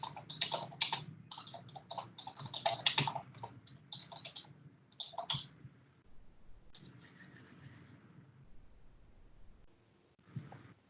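Someone types on a computer keyboard in quick clattering bursts, with pauses between runs and a brief final flurry, close by and faint, with no speech over it.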